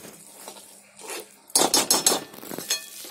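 A spoon stirring and pressing a thick mixture drying in a pan over medium heat, with quiet scrapes that give way to a rapid run of loud metallic knocks and scrapes against the pan.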